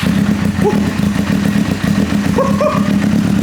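Suzuki GSX-R SRAD motorcycle engine being cranked with the choke on, a steady low churning drone throughout with brief higher whines near the end, close and fairly loud.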